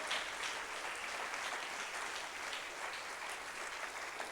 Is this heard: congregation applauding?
yes